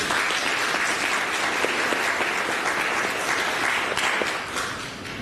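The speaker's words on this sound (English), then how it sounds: "Let's give all of them another warm round of applause." An audience at a university conference applauds steadily, a dense and fairly close wash of many clapping hands that holds level for several seconds before thinning slightly at the end.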